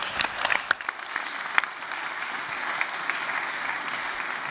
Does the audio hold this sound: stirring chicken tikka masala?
no